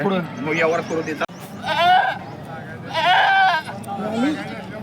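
A goat bleats repeatedly, with several drawn-out wavering cries close by, just after giving birth to a male kid, while a person talks nearby between and under the calls.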